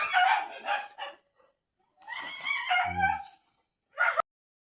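Several dogs bark in quick loud bursts, close by, with a couple of short barks at the end before silence.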